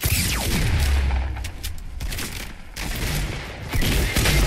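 Gunfire erupts in the video game Fortnite: rapid bursts of game shots and booms over about four seconds, loud and close, with a brief lull in the middle before another volley.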